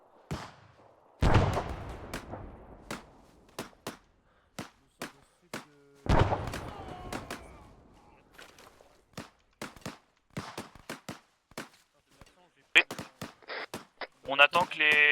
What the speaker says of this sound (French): Il y a des balles qui viennent de derrière nous.